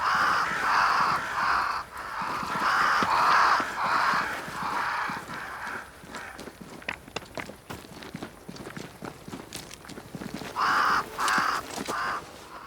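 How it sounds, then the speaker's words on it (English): Several crows caw loudly in bursts near a great tree in the game Banishers: Ghosts of New Eden, with footsteps crunching between the calls. "Crows."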